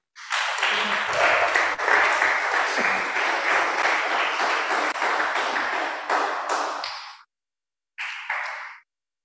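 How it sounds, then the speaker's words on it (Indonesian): Congregation clapping hands at a church sermon, dense loud applause for about seven seconds, a short pause, then a brief final burst of clapping. "Fadil tepuk tangan paling terakhir tapi paling kencang."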